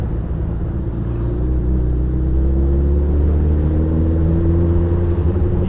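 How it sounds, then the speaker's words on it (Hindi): Motorcycles on a mountain road in the hills, with a loud, steady engine drone and rumble that holds throughout as the bikes approach; no talking. "सामने से दो बाइकर्स आते हुए"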